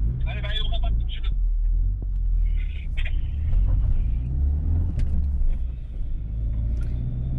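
A Renault Clio 1.5 dCi 65 hp and a Nissan Laurel Altima climb a hill, engines rumbling low and close beneath steady conversation, with faint higher whines and clicks over the drone.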